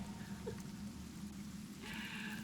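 A rain spell in the video game Divinity: Original Sin gives a steady, even hiss of falling rain, soft but constant, brightening slightly toward the end, with no voices over it.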